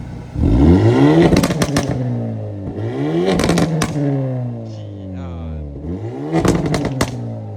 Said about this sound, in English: This is the stock exhaust with the catless downpipe.